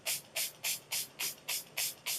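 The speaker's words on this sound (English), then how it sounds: "I'm going to finish everything off using my Milani Make It Last Setting" Milani Make It Last setting spray misted in eight quick, evenly spaced hissing bursts, close and fairly loud, with short silent gaps between pumps.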